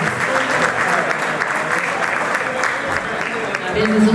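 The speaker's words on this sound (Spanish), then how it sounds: "Los recibimos con un fuerte aplauso." Steady, sustained applause from a conference audience welcoming speakers at a property-law event on private gated neighborhoods in Buenos Aires province, a dense, even clapping that fills the room for the whole stretch.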